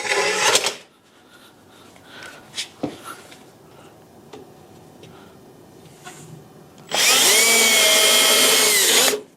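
A power drill drives screws into a mid-century modern credenza under restoration, with a short loud burst at the start and a steady, even whir of several seconds near the end, separated by quieter workshop handling noises.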